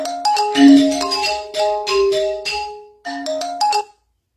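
A mobile phone ringtone plays a bright, loud electronic melody of repeated tonal notes, pausing briefly before continuing, heard alone without talk during a live stream.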